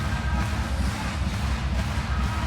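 Ten thousand Polish fans in a volleyball arena roaring and chanting at an Olympic qualification match, a dense, loud, continuous crowd wall with rumbling low chants pulsing throughout and no clear single voice.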